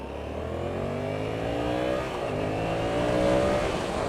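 A Yamaha FZ-07 naked motorcycle's engine accelerates steadily, its rising harmonic drone climbing through the gears with a brief dip near the middle, loud and close with no talking.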